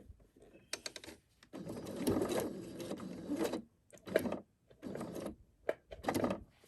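Sewing machine stitching over gathered thread groups on a quilt block, sounding as repeated stop-start bursts of close mechanical whirring of varying length with brief quiet gaps between them.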